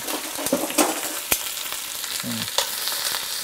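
Short ribs sear in a hot pan with a steady, close hiss and crackle of frying fat, broken by a sharp clack just past one second and a few softer knocks of meat shifting against the metal.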